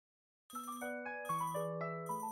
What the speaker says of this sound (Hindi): इसका फोन आ रहा है।